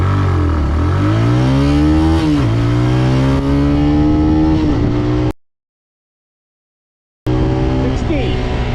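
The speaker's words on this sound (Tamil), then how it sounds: "இந்த இன்ஜின் ஜீரோ டு சிக்ஸ்டி எவ்வளோ நேரத்தில் கிளாக் பண்ணியிருக்கு அப்படின்றத நீங்களே பாருங்கள்" A TVS Raider 125 motorcycle engine accelerating from 0 to 60, loud and close, with its pitch climbing through the gears in rising sweeps, then a sudden dropout of silence before the engine note resumes.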